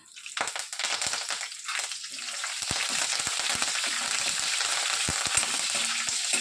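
Garlic cloves and curry leaves frying in oil in a pan for a coconut chutney, a close, steady crackling sizzle that builds after a few early pops and stirring clinks.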